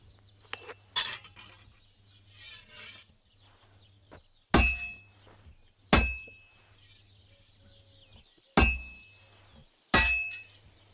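A blacksmith's hammer strikes an anvil in Kingdom Come Deliverance II, four sharp ringing metallic clangs spaced a second or so apart, each decaying over quiet ambience, with softer taps and clinks before them.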